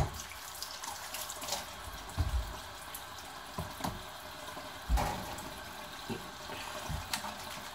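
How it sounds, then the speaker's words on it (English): Hands washed under a running tap, a steady close stream of water with irregular splashes and rubbing bursts as the hands move through the flow. "I'm just gonna record myself washing my hands"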